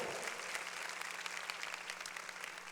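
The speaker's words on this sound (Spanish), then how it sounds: "todos los que son hijos de Dios deben de darle un aplauso al Señor" A church congregation applauds together, a dense and steady wash of clapping from many hands that carries on without a break, fairly distant and soft.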